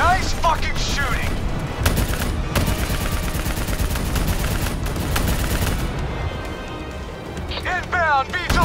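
Dense, continuous automatic gunfire in the Call of Duty: Black Ops 3 campaign, loud and sustained, with sharp cracks among the barrage and shouted voices over it.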